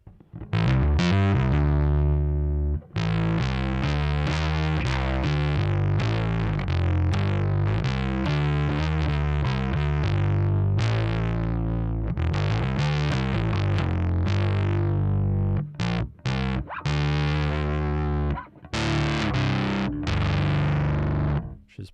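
A bass guitar played through a ToneX One with the gain turned all the way up gives a loud, fuzzy, heavily distorted tone. Riffs of quick plucked notes run over about twenty seconds with a few short pauses and no talk.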